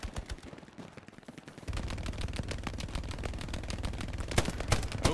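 Machine gun fire from the video game Hell Let Loose, dense rapid bursts of shots, loud and continuous, with other gunfire crackling in the background.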